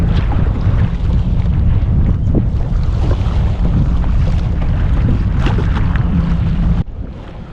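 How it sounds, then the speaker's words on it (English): Strong wind blows across open water during kayak fishing, a loud, continuous roaring rush buffeting the microphone with lapping water beneath, dropping suddenly near the end. "The wind really picked up."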